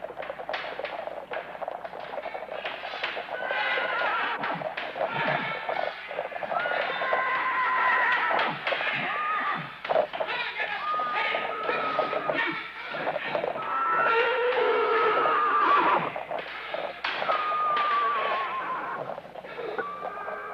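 Horses neighing and whinnying over clattering hooves and rumbling wheels, a busy, continuous staged sound of a horse-drawn carriage climbing the stairs of Wolverton Manor, fairly close with no talk.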